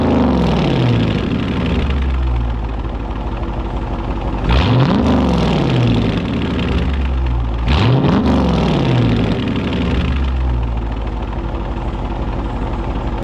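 Loud, close V8 from a 2019 Dodge Charger R/T fitted with a cold air intake and resonator delete, rumbling steadily, then two sharp revs that rise and fall back to a throaty idle.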